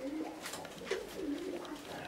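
Uzbek double-crested pigeons coo softly in a loft, with low repeated throaty calls over a steady hiss of background noise, close and continuous for a couple of seconds.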